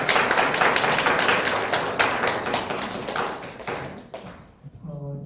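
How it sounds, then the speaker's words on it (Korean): Church congregation at a New Year thanksgiving service claps to welcome newcomers: dense, loud applause from many hands that tapers off after about four seconds, with a voice starting to speak at the end. "일어나시면 박수로 환영하겠습니다."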